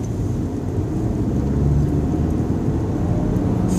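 Diesel TDI car pulling hard up a hill in third gear on a 50 mph road, a deep, steady engine drone and rumble from inside the cabin, building slightly in strength without any talk.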